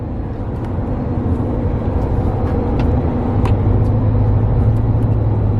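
A car drives along a mountain road, giving a steady, fairly loud engine and road rumble that stays close and continuous throughout, with no talking.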